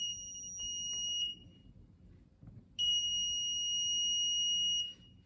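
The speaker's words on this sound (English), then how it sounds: "it's gonna start beeping" An Arduino ultrasonic distance sensor's buzzer sounds two long, steady, high-pitched electronic tones, each over a second long, with a short gap between them and a faint low background hum.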